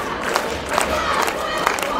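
Basketball crowd at a Class 2A Region 7 girls game cheers and shouts, roused by MMCRU cheerleaders, a dense steady roar with sharp whoops and claps popping out repeatedly.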